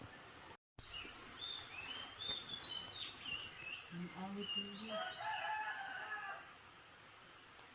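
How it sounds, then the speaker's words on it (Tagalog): A rooster crows amid chirping birds at sunrise and a constant insect drone outdoors in rural Bohol, Philippines, with a short dropout near the start. "Mga huni sa langgam."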